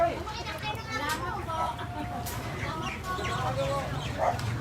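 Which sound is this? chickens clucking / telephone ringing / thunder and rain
chickens clucking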